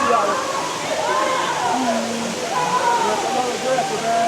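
Rushing water at a multi-tiered waterfall, a steady broad roar heard close and continuous, with voices chattering faintly underneath.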